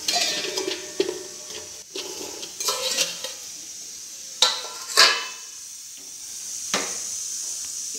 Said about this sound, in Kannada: ಈಗ ಒಗ್ಗರಣೆ ಹಾಕ್ಕೊತೀನಿ ನಾನು.